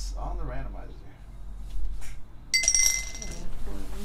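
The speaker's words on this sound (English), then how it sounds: "Here we go. 12-sided die." A twelve-sided die rolls and clinks on a hard surface, a bright rattling burst heard close between stretches of someone talking.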